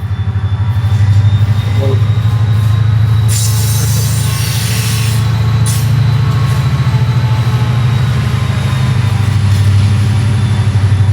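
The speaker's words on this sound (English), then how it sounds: "I think we have a train coming." A Union Pacific train rolls past in a loud, continuous low rumble that holds steady for several seconds, with brief bursts of high wheel squeal partway through.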